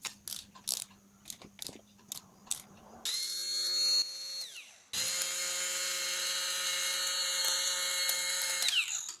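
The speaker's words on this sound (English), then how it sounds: "These bolts are then tightened." A power tool tightens bolts on a KTM motorcycle starter motor, with clicking ratchet-like taps first and then two sustained, whirring runs of the tool close up, slowing down at the end of each.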